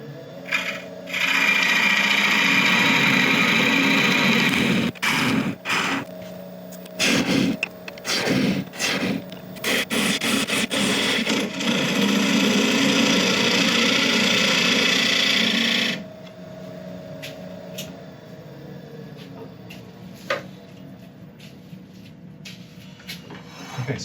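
A wood lathe spins a workpiece while a turning tool cuts an internal recess, giving a steady motor hum broken by bursts of scraping and chattering cuts that stop abruptly, leaving a quieter hum.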